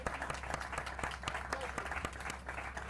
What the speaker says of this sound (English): I would like to give a round of applause to the Brushy Creek Boys